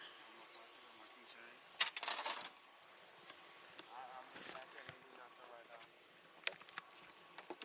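Handcuff keys jangling during a police detention, bursts of small metallic clinks and rattles near the start and again later, with people talking around them.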